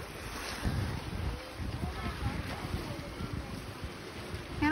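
Sea at an uncrowded swimming beach, a steady wash of surf and waves mixed with heavy wind buffeting the microphone, with a voice faintly under it.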